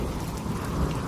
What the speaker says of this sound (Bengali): চারপাশ দিয়ে ঝড়ো হাওয়া বইছে, বাহিরে ঝিরঝিরি বৃষ্টিও পড়ছে